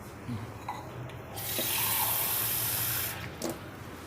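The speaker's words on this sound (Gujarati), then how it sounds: "પાણી નાખીને આપણે લોટ બાંધી લઈશું" Water runs in a steady stream into wheat flour for kneading dough for paratha, close by, between quieter moments with faint handling sounds.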